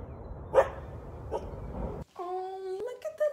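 A dog gives a sharp yelp, then drawn-out tonal whines and cries, close and fairly quiet.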